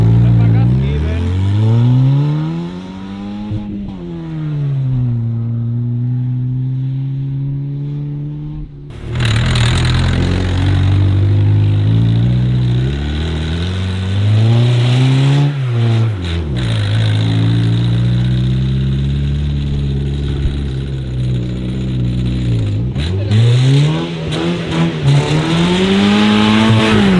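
A NOS-tuned car with no rear or middle mufflers revving hard, loud raw engine rising and falling in repeated pulls from idle, harsh and close, with a lower-pitched start before the revs climb.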